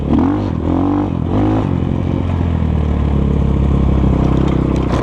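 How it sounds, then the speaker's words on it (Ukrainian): A loud KOVI 250 motorcycle engine from 2023 runs close by, its rough exhaust revving up in a few quick bursts before settling into a rough, rumbling idle. "Якийсь тут вихлоп більш грубший."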